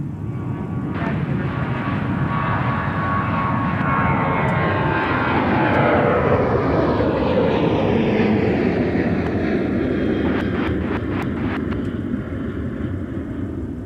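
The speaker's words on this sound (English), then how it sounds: "here's Southwest Flight 1323 off to Denver" A Southwest Airlines jet departs Minneapolis–St. Paul airport with a loud, sustained engine roar that swells and shifts in pitch as it passes, continuous with no voices.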